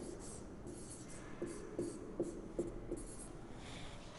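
Writing on a board in a maths lesson, with a faint series of about five soft strokes in steady rhythm over quiet room noise and no talk.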